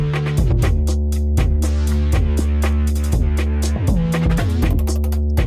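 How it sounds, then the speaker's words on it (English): A simple looping beat from an Arcade preset, with punchy drums and a deep sustained bass line repeating steadily and loud, no voices. "I grabbed like 6 layers of this just to create some drums and a little bass."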